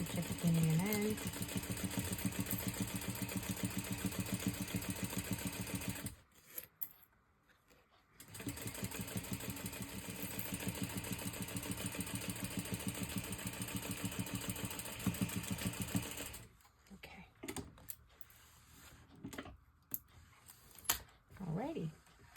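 A sewing machine stitches a crossbody bag in long, steady runs of rapid mechanical clatter, close and loud, stopping for two pauses with brief start-and-stop bursts near the end.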